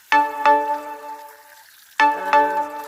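Two bursts of bright electronic tones ring out from a phone alert, each a pair of quick chimes, separated by a short pause in an otherwise quiet room.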